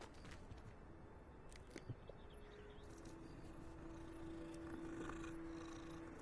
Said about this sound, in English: Let's pet cat.